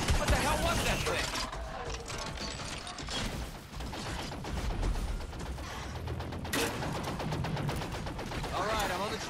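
Rapid gunfire in the Evolve video game while fighting a Gorgon monster, dense clattering bursts running almost continuously over game noise, with voices talking in places.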